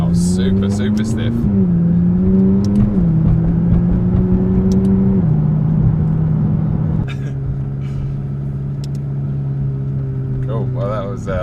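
A 2017 McLaren 570S drives along with a steady engine drone and road rumble from inside the cabin, pitch shifting between gears, while people talk over it.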